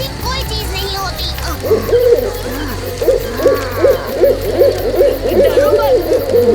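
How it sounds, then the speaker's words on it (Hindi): An owl hoots repeatedly in a Hindi children's cartoon, a loud rhythmic series of hoots following a brief stretch of other cartoon sound. "भूत आने से पहले हमेशा एक उल्लू की आवाज आती है।"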